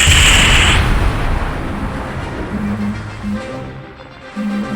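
Loud War Thunder battle din: a heavy blast opens, then dense rumbling gunfire and explosions continue, with a faint voice underneath.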